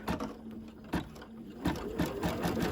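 An embroidery machine stitches a turkey-themed mug rug, giving a quiet, rapid mechanical chatter with irregular louder clacks, close by.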